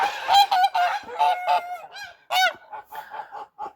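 Honking calls from young ducks in a yard come in a rapid, irregular series of sharp nasal quacks, close and clear, some overlapping, with short gaps between bursts.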